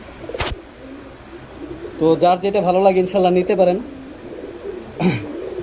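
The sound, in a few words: pigeon cooing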